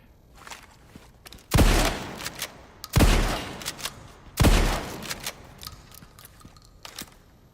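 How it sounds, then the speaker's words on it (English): Three loud shotgun blasts spaced about 1.5 seconds apart in a Resident Evil mod video game, each a sharp boom with a short decaying tail, with faint clicks and game noise between shots. "Let me see what this shotgun is like."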